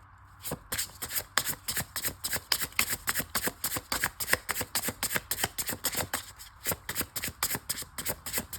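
Tarot cards being shuffled by hand, a steady run of crisp riffling clicks and soft slaps repeating throughout, close and fairly loud, with no voice.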